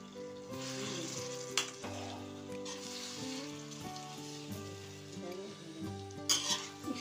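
Stuffed eggplant for bharwa baingan sizzling in an opened kadai, a soft continuous frying hiss over a steady backdrop of sustained music, with a few spoon scrapes and taps standing out.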